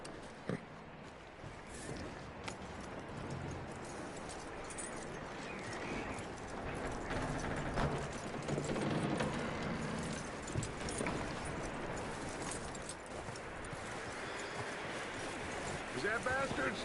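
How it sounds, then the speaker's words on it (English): Horse hooves clip-clop steadily at a walk in the Red Dead Redemption 2 open world, a continuous close rhythm sitting under game ambience and occasional voices. "That looks like a decent horse."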